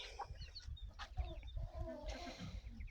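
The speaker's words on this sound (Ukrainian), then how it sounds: "Сьогодні хочу показати вам нашого півня." A Shamo fighting-breed rooster and hens in a farmyard cluck faintly and intermittently over a low background rumble, distant and quiet, with no talking.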